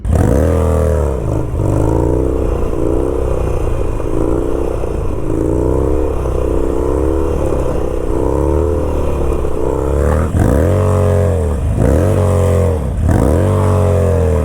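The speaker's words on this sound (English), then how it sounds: "do some J-turns from a dead stop, see if we can get this thing to slide out a little bit" A Harley-Davidson motorcycle doing J-turns from a dead stop in a parking lot, its loud engine rumbling and revving hard with repeated rising throttle bursts, close up and without talk.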